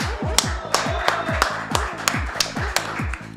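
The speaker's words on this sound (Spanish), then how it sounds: "Última vez que te aplaudo en el año, Diego." Hands clap in a quick, even rhythm for several seconds during a radio talk show, a steady run of sharp close claps over a low background.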